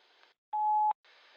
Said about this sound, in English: if you want to go ahead and leave a message at the beep